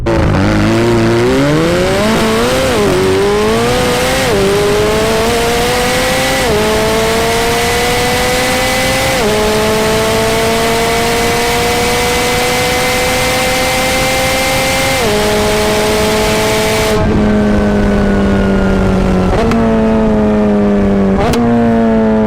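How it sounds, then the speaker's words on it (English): A McLaren 720S and a Ferrari 488 GTB drag race, engines roaring loudly through repeated gear changes, each upshift dropping the pitch before it climbs again, with no voices. "Here's a drag race that shows the superior engineering of the 720s versus the Ferrari 488 GTB."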